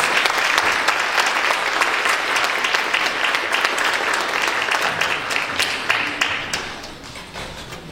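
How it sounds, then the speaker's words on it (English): Loud, sustained audience applause for children standing in rows on stage, dense continuous clapping that tapers slightly toward the end. "Can you give them one more round of applause?"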